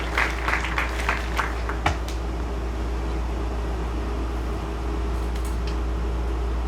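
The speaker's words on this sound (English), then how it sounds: "Round of applause, 2021 competition cheer squad" Crowd applause for the 2021 competition cheer squad at a high school athletic awards ceremony, a steady wash of clapping with a few sharper early claps over constant background hum.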